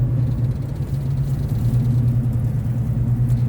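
Cars creeping in a traffic jam on a road near Yogyakarta, a steady close engine drone and idling rumble that holds level throughout, without speech.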